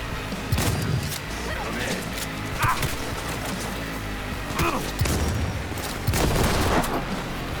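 Explosions and bursts of gunfire in the video game Cyberpunk 2077, a series of sharp booms and crackling shots over a continuous background, with someone talking throughout.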